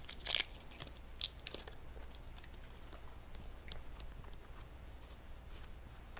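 Quiet wet chewing of spicy carbonara shrimp noodles served with baked snow crab legs, with a few crisp bites and smacks early on, then soft steady mastication close to the mic.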